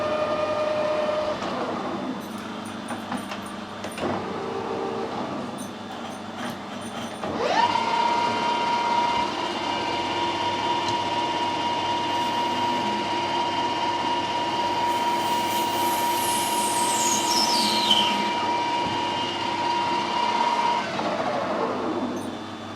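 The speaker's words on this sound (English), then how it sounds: "I'm just going to square the end of the bar up and then put a centre in with it as well" A metal lathe squares the end of a plastic bar in a workshop, giving a steady mechanical whir that grows louder partway through, with a sustained tonal whine and a brief sweeping squeal near the end.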